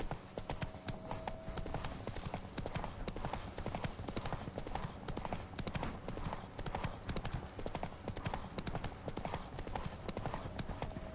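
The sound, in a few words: horse hooves clip-clopping while riding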